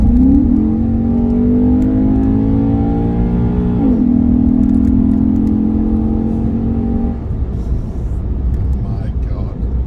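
A Maserati GranTurismo's V8 roars through a long, loud rev that climbs, dips briefly and climbs again before dropping away, heard up close with some background noise.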